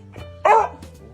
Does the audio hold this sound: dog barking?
yes